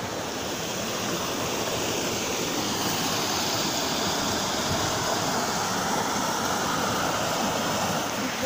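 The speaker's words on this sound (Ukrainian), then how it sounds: "Добре, полюбуйтеся водоспадом, і ми рушаємо далі вверх по річці Рушір." A waterfall on the Rushir river in the Carpathian mountains roars as a steady, dense rush of falling water, loud and unbroken throughout with no voices over it.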